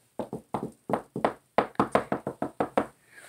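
A voice imitating knocking on a door: a series of about fifteen sharp, close knock-like bursts in uneven groups, with a brief pause partway through, heard alone.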